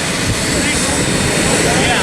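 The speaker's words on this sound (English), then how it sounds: "here's the jet taking off here" A jet engine roars steadily at Palomar Airport as the aircraft taxis out for takeoff, a loud, constant wash of noise that masks most other sound, with voices faintly mixed in.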